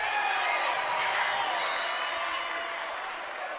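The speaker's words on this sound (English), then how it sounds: "I feel like the crowd noise is getting to me a little bit." Loud crowd noise fills a high school playoff basketball game between Sulphur Springs and Pine Tree, a dense roar of cheering that eases slightly toward the end.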